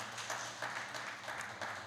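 A congregation at an Indonesian Sunday worship service applauds with a dense, rapid patter of many hands, brief and fairly distant, with light murmuring beneath.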